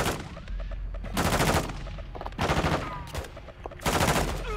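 Loud, close gunfire bursts in Call of Duty Modern Warfare 2: several rapid volleys of automatic shots separated by short pauses, each burst sharp and sustained.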